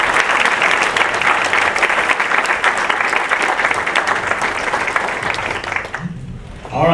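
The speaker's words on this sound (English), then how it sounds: "Now let's give these folks a round of applause." Audience applause at a Walton County entertainment event: a sustained, even wash of clapping that holds strong for about six seconds, then cuts off abruptly, followed by a brief voice.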